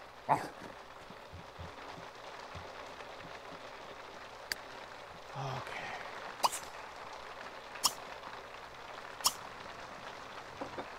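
A dog barks aggressively in The Sims 3 game: a few sharp, isolated barks spaced several seconds apart over a quiet, faintly hissing background.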